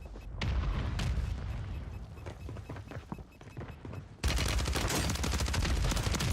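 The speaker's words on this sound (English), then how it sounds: "That mortar just sniped my ass, dude." Call of Duty battle with a sustained roar of gunfire and booming blasts from a mortar strike, loud and dense, jumping sharply louder near the end into a harsh, noisy burst.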